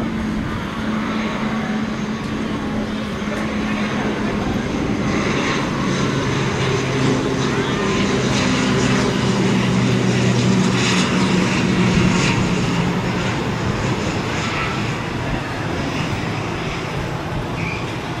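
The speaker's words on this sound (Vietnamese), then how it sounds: "chúng ta có một chiếc ATR72500 của Vasco" A Vasco ATR 72-500 turboprop airliner lands at Tan Son Nhat airport after a flight from Con Dao. Its engines give a loud, steady drone with a propeller hum that fills the whole stretch, and no one speaks.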